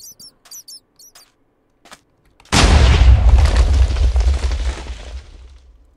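Explosive chance cube going off in a video game: a sudden loud blast with heavy rumbling decay that fades over several seconds, preceded by faint game blips and clicks.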